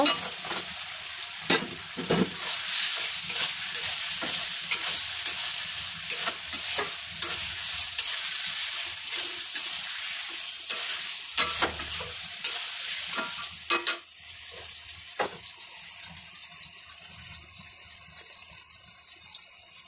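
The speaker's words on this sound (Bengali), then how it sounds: "এবার আমি ভেজে রাখা পটলগুলো দিয়ে দেব" Pre-fried pointed gourd pieces sizzle and crackle in a pan while being stirred, with repeated scraping clatters over a steady frying hiss that drops to a quieter, even sizzle for the last several seconds.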